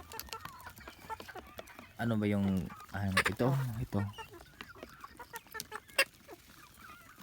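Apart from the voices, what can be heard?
chickens clucking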